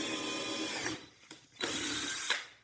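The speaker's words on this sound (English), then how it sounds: "Drill a little hole." A power drill whirs steadily into wood in two bursts, pre-drilling a small hole, with a brief pause between them.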